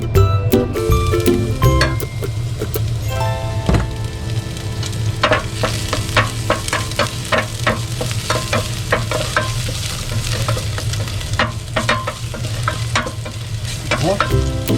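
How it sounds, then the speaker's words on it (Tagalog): Garlic sautéing in a hot pan for a Filipino beef dish (kinamatisang baka sa toyo), a steady loud sizzle with repeated stirring scrapes and clinks throughout. "Start sauteing the garlic."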